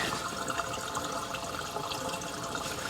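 Gasoline pours out of the fuel vent of a 1991 Honda Civic as a steady, moderately quiet splashing gush of liquid that goes on without a break.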